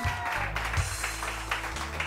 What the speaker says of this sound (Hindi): अनम तनवीर के लिए बहुत सारी तालियां